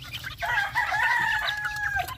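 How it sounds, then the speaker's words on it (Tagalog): Young chicks peeping and chirping in a farm pen, a dense overlapping chorus of high calls with some sustained whistling tones, close and fairly loud, with no talking. "Nakikita mo yung mga sisiw na to."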